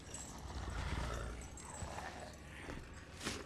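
Horse hooves clip-clop in a quick galloping rhythm amid a dense, busy background of movement and commotion, fairly loud and continuous throughout.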